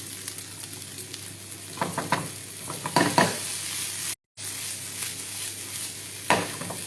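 Green peas sauté in a pan with a soft, steady sizzle broken by several stirring scrapes and clatters, close and fairly quiet, with a brief dropout midway.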